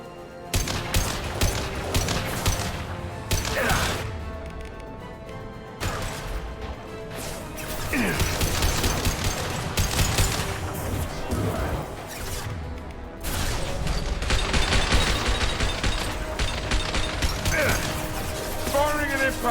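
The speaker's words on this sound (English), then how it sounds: "Firing an impact shot!" Heavy bursts of gunfire and impact shots in the sci-fi shooter game Mass Effect 2, loud rapid volleys and crashes in clusters with brief gaps between them, mixed with mechanical clanks and game sound effects.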